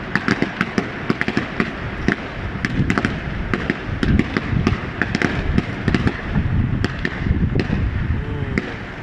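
Fireworks bursting nonstop at a celebration in Paris, a dense run of sharp cracks and pops layered over deeper booms, loud and continuous with no pauses.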